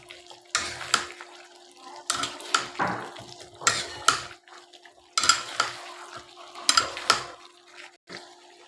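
Chicken being sautéed with egg in a pan, with repeated scraping and clinking strokes of a spoon against the pan in an irregular rhythm, close and fairly loud over a low background hiss.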